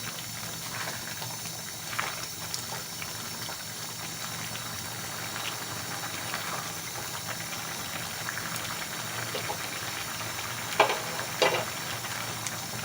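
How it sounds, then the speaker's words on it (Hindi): Beef liver (kaleji) frying in oil over high heat, a steady soft sizzle and bubbling throughout with a couple of brief clinks near the end. "मिक्स करने के बाद तेज़ आंच पर इसकी भुनाई करेंगे, अच्छी तरह इसको फ्राई करेंगे"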